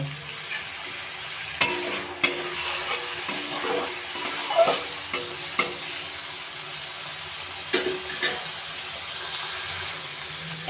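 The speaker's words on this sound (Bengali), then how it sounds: "সামান্য পরিমাণে একটু জল দিয়ে দেবো এবার আমি গ্যাসের ফ্লেমটা একটু বাড়িয়ে দেব" Pumpkin kofta curry sizzles steadily in a pan over a gas flame after a little water is added, a continuous close hiss broken by light stirring clicks and occasional soft bubbling.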